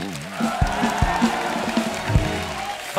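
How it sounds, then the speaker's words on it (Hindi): A studio audience on a comedy talk show keeps up steady, moderately loud applause with some crowd noise, and a voice speaks over the clapping. "और एक बार जोर से तालियां हो जाए।"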